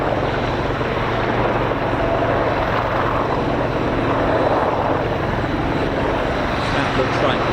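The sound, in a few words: Apache helicopter arriving at RAF Fairford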